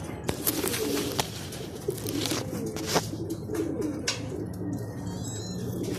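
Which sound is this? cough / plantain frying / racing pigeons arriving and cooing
racing pigeons arriving and cooing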